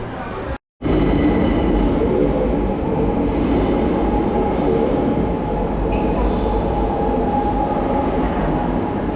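Ride aboard a Barcelona metro train: loud, steady rumble of wheels and carriage noise fills the car, with a brief dropout near the start and faint squeals later.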